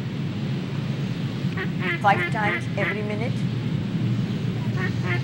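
A voice imitates a duck, giving a few short nasal quacks in quick succession over a steady, noisy background rumble, with people talking around it.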